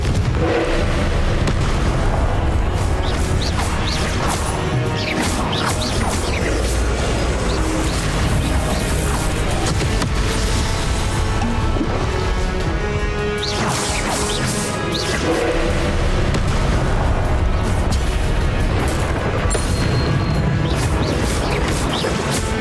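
Confringo blasting spells explode over and over during a loud, busy fight in Hogwarts Legacy on Switch. Heavy crashes and booms pile on one another with whooshes throughout the stretch.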